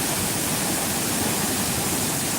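Roaring water of Gandahayiti waterfall, a steady broadband rush that holds at an even level for the whole stretch, with no voices over it.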